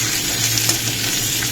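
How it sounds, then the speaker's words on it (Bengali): Onion and capsicum sizzle in hot oil in a pan for chilli chicken, a steady close frying hiss with a faint stir, no talk. "এই তেলের মধ্যে আমি দিয়ে দেবো পেঁয়াজ,"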